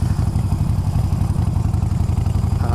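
A new motorcycle, replacing a Yamaha Bolt, idles close by with a loud, steady, lumpy low thrum of rapid even pulses and no voices over it.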